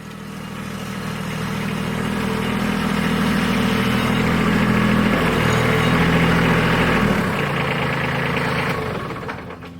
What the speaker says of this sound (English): And then we're going to get the backhoe and start leveling out where the beds go.